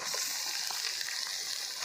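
Two kilos of chicken frying and sizzling in a pot as water is added, a dense, steady hiss with small crackles, faint and continuous with no talk.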